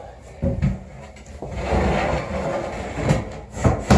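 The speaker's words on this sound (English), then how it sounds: "So you put this in" A wooden cleat scrapes and slides into a cupboard, giving a few short knocks followed by a longer dry rubbing of wood on wood, close and fairly quiet.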